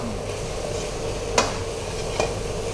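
Shrimp fried rice stir-fried with XO sauce in a wok, a constant close sizzle broken by two sharp metallic scrapes of the spatula against the pan, no speech.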